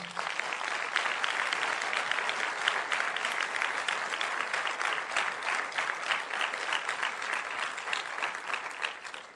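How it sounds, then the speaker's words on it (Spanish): Audience in a church lecture applauding steadily and loudly, with dense, sustained clapping from a sizeable crowd that carries on evenly throughout. "Denle otro aplauso Se lo fuerte."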